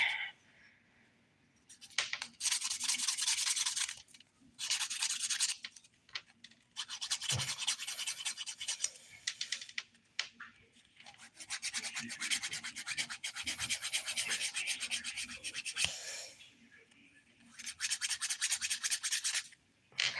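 Fingernails are filed and buffed in short, scratchy rubbing bursts that start and stop, close and quiet, separated by pauses of near silence.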